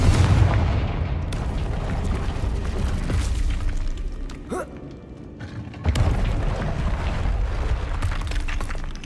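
A Confringo fire-blast spell in Hogwarts Legacy goes off in deep, rumbling booms: a heavy burst at the start, a quieter stretch, then another loud blast near six seconds, with a rolling low roar throughout.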